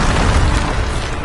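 A Bombarda spell goes off in a Harry Potter video game as one loud, dense booming blast that fills the short moment and fades only slightly.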